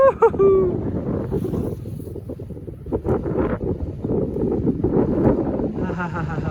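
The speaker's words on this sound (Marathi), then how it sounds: "आणि ही बोट चालली आहे" A boat travels across the sea off the Konkan coast of Ratnagiri, with a steady motor drone, rushing water and heavy wind buffeting the microphone, and voices talking over it.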